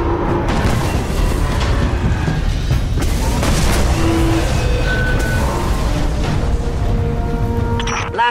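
Mines explode in the video game Destiny 2 during Titan gameplay: a dense run of loud booms and blasts through the whole clip, layered with game effects.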